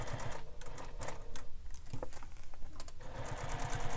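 A sewing machine stitches the side edge of a fabric bag, its needle running in fast, steady rhythmic bursts, briefly slowing and pausing midway before picking back up, close and clear with no talk.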